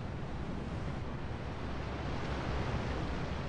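Roaring water from Niagara Falls makes a dense, unbroken rush, loud and steady throughout, with no voices over it.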